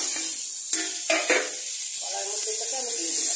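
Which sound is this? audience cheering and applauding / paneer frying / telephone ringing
paneer frying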